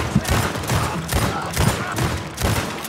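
Rapid gunfire from an online Western shooter, Red Dead Online, loud and close: a fast string of sharp cracks, roughly every half second, over steady game ambience.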